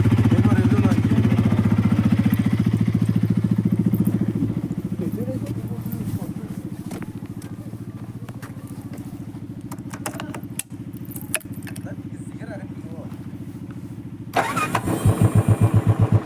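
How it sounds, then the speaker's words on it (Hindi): A motorcycle engine runs with a steady low drone, then cranks and catches again near the end, rising loud and rough up close. A voice may be faintly present. "ये मेरा बाइक है"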